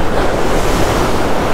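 Waves break and wash continuously on the beach while surf fishing for stripers, a loud, even roar of water with heavy wind noise on the microphone, no speech.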